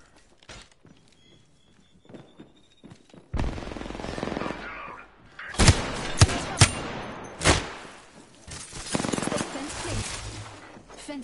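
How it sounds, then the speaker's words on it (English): Gunfire in the co-op game A Way Out, scattered sharp shots and short bursts among footsteps and movement, quiet at first then louder, with characters talking between shots. "Opening fire. Taking fire."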